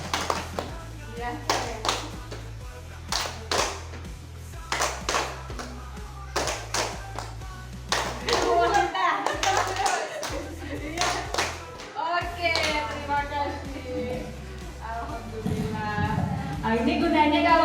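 A group of students claps in a steady rhythmic pattern over music, with voices chanting and singing along between bursts of clapping.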